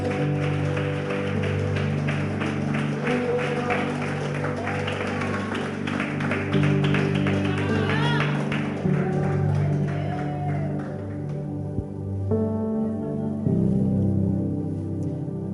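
A church congregation applauds with steady, dense clapping spread across the room, sustained for several seconds alongside held musical tones that fade toward the end.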